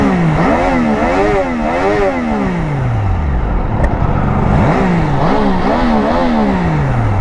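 A Triumph Daytona 660 triple-cylinder sport motorcycle engine running loud and close, rising and falling through repeated throttle revs that sweep up and down in pitch, with no talking.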